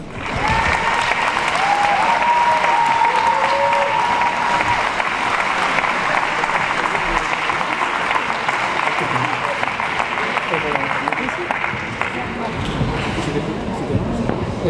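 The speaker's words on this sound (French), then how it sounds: "Donc je crois qu'on peut aussi les applaudir." An audience at a left-wing political rally in Brest applauds with sustained, dense clapping that fills the whole stretch, loud and steady with a few cheers mixed in.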